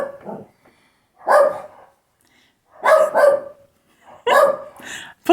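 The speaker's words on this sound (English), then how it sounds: "Ignore the barking dogs." Several dogs bark loudly in repeated short bursts with quiet gaps between, nearby in a home during a crochet lesson.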